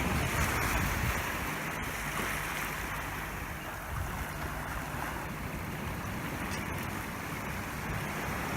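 Ocean waves wash steadily onto an unspoiled beach at Twofold Bay, New South Wales, a continuous broad roar of surf with gentle swells, heard alone with no voices and a little wind.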